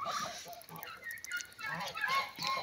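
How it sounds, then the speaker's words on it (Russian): Lively quacking from a flock of domestic ducks flapping their wings, close by and continuous, with a bit of rustling from the wing flaps. "утки, видите, какие у меня утки счастливые. Крыльями машут"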